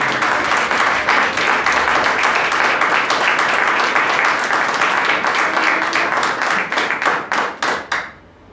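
Church congregation clapping loudly in a round of praise, a thick burst of many hands that thins into a few distinct, separated claps before fading out near the end.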